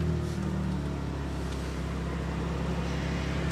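A 2024 BMW M2 engine just after starting, settling into a steady, moderately loud idle heard from inside the car, with a few small clicks and no talking.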